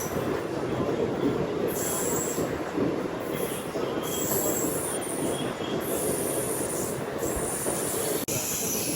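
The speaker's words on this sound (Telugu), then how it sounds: "ఎంత స్లోగా షంటింగ్ అవుతుంది బండి." A MEMU express train shunts slowly on the Nellore to Vijayawada line, heard from on board as a continuous loud rumble of wheels on rails with repeated high metallic squeals, no talking.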